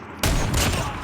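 A shotgun goes off in a shooter video game as a single loud, close blast that starts sharply and then fades into a rough, crackling tail.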